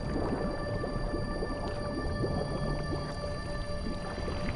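Humpback whale calf vocalizing underwater in the deep ocean, a steady bed of tonal calls and murky gurgling textures held at an even level throughout, with no talk over it.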